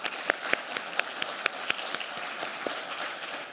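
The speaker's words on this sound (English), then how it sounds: "Please, another round of applause for Elizabeth." Scattered audience applause at a conference opening session, with individual sharp claps standing out over a thin, steady patter of clapping from the room at moderate level.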